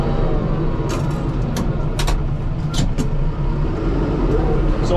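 Tractor engine idling low during snowplowing with a snow pusher, a steady rumbling drone with a few short clanks and hisses on top, while someone talks over it.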